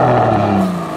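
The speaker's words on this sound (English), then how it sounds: "This car has quite an exhaust note." A deep, throaty Aston Martin Rapide exhaust rumbles steadily at close range, a low droning growl with no voices over it.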